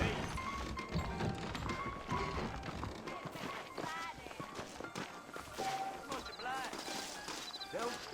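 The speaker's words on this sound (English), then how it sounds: "I got the horses saddled up and ready out front." Horses' hooves clip-clop at a walk in the Western video game Red Dead Redemption, set in New Austin, a steady plodding rhythm mixed with game music and ambient noise while a character speaks.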